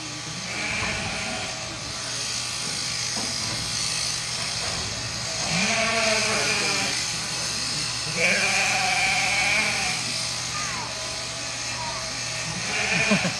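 Sheep bleat repeatedly during shearing at the Fiber Festival of New England 2024. The wavering cries come over the steady buzz of electric clippers, with a person talking throughout.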